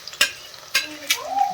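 Garlic sizzles in a hot pan while a spoon scrapes through it in three distinct stirring strokes, close and clear, for a home-cooked drumstick and gram-flour vegetable dish.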